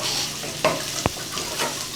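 Mutton fry sizzles steadily in a pan while a spoon stirs it, with two sharp scraping knocks of the utensil and a constant soft crackle underneath.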